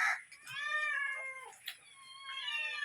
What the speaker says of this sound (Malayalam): അപ്പൊ നമ്മളെ പൂച്ചകള് നേരന്ന് നിന്ന് കരയാം.